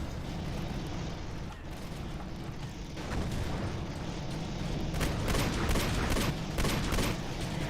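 Grenade blasts and battle noise in the Battlefield 40K video game, a dense, continuous roar of explosions and gunfire that swells louder in the second half, with bursts layered over a constant low rumble.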